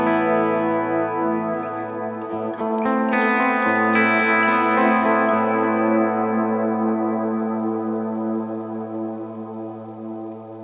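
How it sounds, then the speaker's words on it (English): An electric guitar plays a sustained chord into a reverb effect set to a 50% mix with the shimmer pitch blend off, swelling into a long, even wash that slowly decays. "So what we should be hearing here is just reverb."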